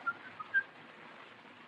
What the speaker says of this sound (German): Hast du den Mann gesehen, der gepfiffen hat?